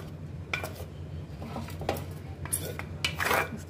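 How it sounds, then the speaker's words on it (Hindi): Raw mango pickle being moved into an open vessel, with scattered clinks and scrapes of utensils against metal dishes and soft handling noises, close and fairly quiet. "मैं अचार को किसी खुले बर्तन में डाल लेती हूँ"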